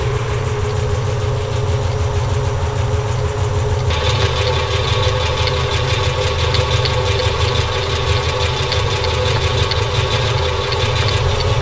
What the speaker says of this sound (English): I'm hearing a nasty tick